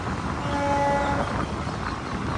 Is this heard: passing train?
yes